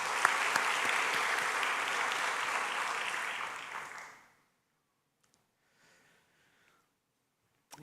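Church congregation applause for the broadcast team during a Sunday service: loud, dense clapping for about four seconds that tapers off and gives way to near silence with a few faint stray sounds.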